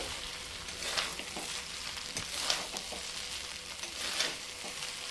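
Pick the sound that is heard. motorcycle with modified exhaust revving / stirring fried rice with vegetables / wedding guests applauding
stirring fried rice with vegetables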